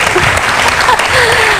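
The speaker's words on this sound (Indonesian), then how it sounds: "Tepuk tangan dong" An audience claps steadily through the whole moment, a dense, fairly loud round of applause with a little speech mixed in.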